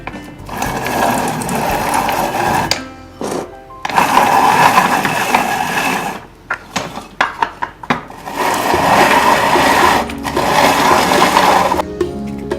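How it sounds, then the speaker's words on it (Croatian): A hand-cranked grinder mills walnuts, giving a loud, close whirring and rattling of gears in long bursts, broken by brief pauses and a stretch of short, uneven cranking strokes before the steady grinding resumes. "Ovdje imam mašinu za ručno mljevenje u koju ću dodati nekoliko oraha koje ću samljati."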